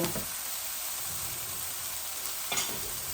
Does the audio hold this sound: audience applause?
no